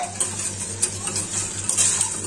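A spoon stirring sauce with oil in a cooking pot, repeated scraping and clinking strokes against the metal in a quick uneven rhythm, close and moderately loud over a low steady hum.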